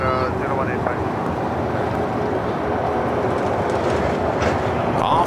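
A jet airliner takes off from LAX bound for Seoul, a steady broad roar that holds throughout while voices talk over it.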